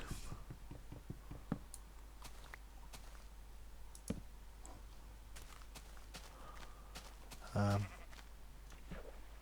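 A Minecraft sheep lets out a single short bleat amid clicking and footstep sounds from the game, fairly close and clear, with no talk over it.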